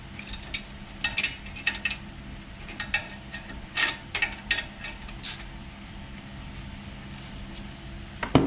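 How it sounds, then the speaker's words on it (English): Ratcheting wrench clicking on a brake caliper bolt of a 2014–2021 Jeep Grand Cherokee during a front brake job, with bursts of quick close metallic clicks spread across the clip over a low steady background hum. "the ratcheting wrench."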